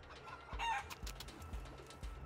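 A chicken clucking in a video game, a few close, quick clucks over a low game background, without speech.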